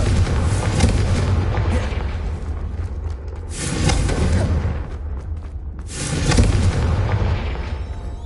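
Confringo fire spells burst in Hogwarts Legacy as loud, rumbling explosions that come in three heavy waves, each swelling and then fading into a low roar.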